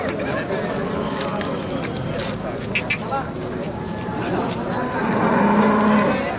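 Cattle moo repeatedly at a crowded bullock market in Chakan, with a steady hubbub of people talking around them and a louder, drawn-out moo near the end.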